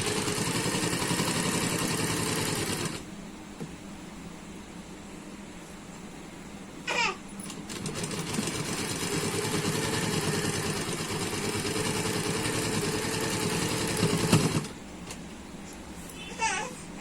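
A sewing machine stitching both side seams of a suit runs in long steady bursts, broken by brief pauses and a few small clicks, moderately close with no talking.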